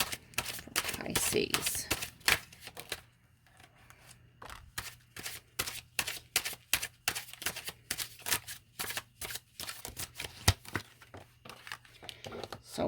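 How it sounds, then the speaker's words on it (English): Oracle cards are shuffled and handled at a tarot reading, giving a run of crisp, rapid riffling and tapping clicks close by, in uneven bursts, with a voice speaking briefly at the start. "let's get some oracle cards so we can get better clarification"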